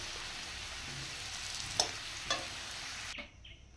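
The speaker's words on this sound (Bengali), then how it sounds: "হলুদ আর লবণ দিয়ে ঢাকা দিয়ে ভেজে নেব।" Food seasoned with turmeric and salt fries in a covered pan, a steady low sizzle with a couple of soft clinks before the sound cuts off abruptly near the end.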